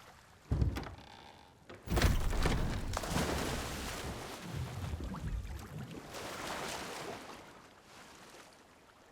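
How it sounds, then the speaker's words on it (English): A loud splash of water in the Sea of Thieves game opens with a heavy thump, then a long churning wash and sloshing that slowly fades, close and full, with no talk. "What was that loud splashing sound?"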